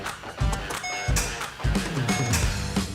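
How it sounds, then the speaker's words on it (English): A car engine with a flat battery cranks repeatedly in short, strained bursts without catching, each attempt sputtering and stopping before the next try. "You know if your battery's flat if it sounds like this."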